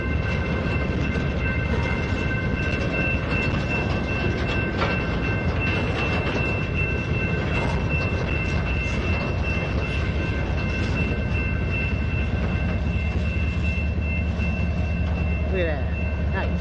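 Southbound Norfolk Southern freight train passing close by, a loud, constant rumble of wheels and cars rolling on rail with faint clickety-clack and engine drone throughout; a voice is briefly heard over the train.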